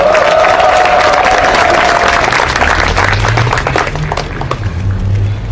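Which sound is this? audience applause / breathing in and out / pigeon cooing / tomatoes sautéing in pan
audience applause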